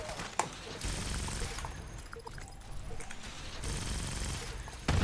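Fallout 76 gameplay carries bursts of gunfire, with sharp cracks and rapid volleys breaking up a dense, noisy backdrop of battle sounds at moderate loudness.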